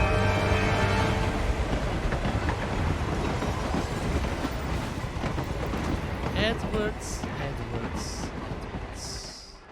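A train rumbles along the rails in the video game Hitman 3, with a loud, continuous low roar and rattling, and a few high squeals or whistles near the end.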